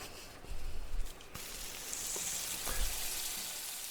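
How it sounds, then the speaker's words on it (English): Sizzling from food on a portable stove set on a table, a steady hiss running throughout at moderate level with a few louder bursts, no voices. "You hear a sizzling"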